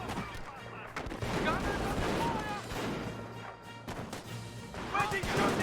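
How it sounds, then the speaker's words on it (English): Sniper shots and scattered gunfire from Company of Heroes play as steady battlefield noise with intermittent sharp cracks and thuds, while a voice talks over it throughout. "Sniper does get a decent hit there."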